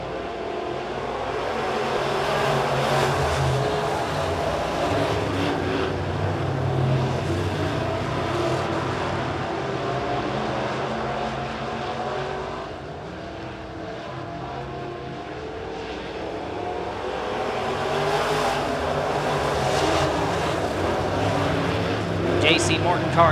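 B-Modified race cars roar around the Springfield Raceway track, their engines forming a loud, continuous drone that swells and fades as the cars pass, with a race commentator talking over it.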